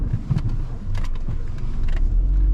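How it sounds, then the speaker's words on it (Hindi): Maruti Alto K10 car being driven and turned on the road, its engine humming steadily with some revving and faint clicks and rattles inside the cabin, close and without talk. "अब गाड़ी घुमा लेते हैं।"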